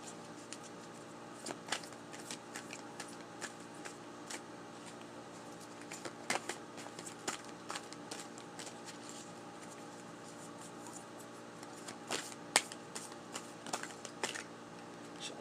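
A deck of tarot cards being cut and handled by hand: faint, scattered flicks and soft clicks of cards running steadily throughout, close and quiet.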